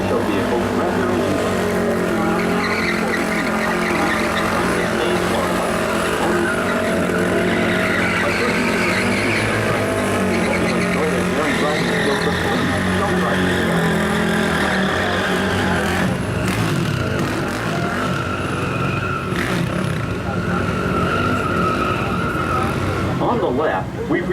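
Custom-built stunt show vehicles rev loudly and skid at a studio lot's stunt area, engines roaring continuously with tire squeals, over a constant loud backdrop with some voices mixed in.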